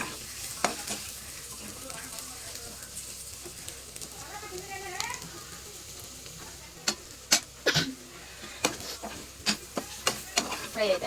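Chicken frying in a pan, a soft sizzle with scattered stirring scrapes and clicks that grow sharper and more frequent toward the end, close by, with a voice briefly audible early on.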